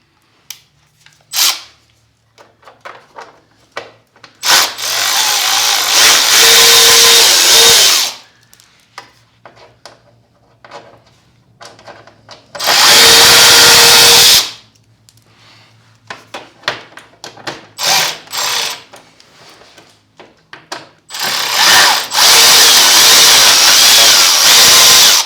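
A power drill backs out screws from the front grill of a Lifan KPR 200 motorcycle in three loud bursts of whirring at close range, separated by quiet handling and clicks.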